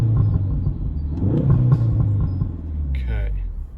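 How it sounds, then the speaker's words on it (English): Inside a Ford Focus ST MK4 in sport mode, the engine revs with a low, throaty rumble that climbs and then settles, heard from the cabin, with a brief higher whir near the end. "this is the sound of revs from inside the car in sport mode"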